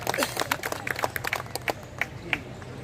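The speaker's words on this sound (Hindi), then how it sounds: "एक बार तालियों से बुलाइए सूरजमणि त्रिपाठी को" Scattered applause from a kavi sammelan audience at a Holi-festival poetry gathering, rhythmic claps fairly near over a low hum, sparse and modest in volume.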